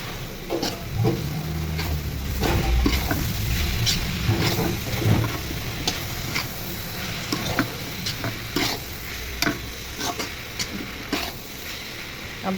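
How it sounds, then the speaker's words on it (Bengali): Cabbage bhaji frying and being stirred in a pan, a steady sizzle broken by repeated sharp scrapes and clacks of the spatula, close and fairly loud throughout. "ভাজা ভাজা ভাজা করতেছি ভাজিটা"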